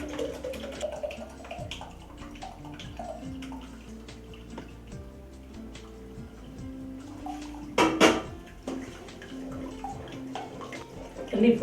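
Water draining from curdled milk being strained through a cloth in a home kitchen while making paneer basundi, a soft trickle and drip with occasional clinks of a vessel and a brief louder splash.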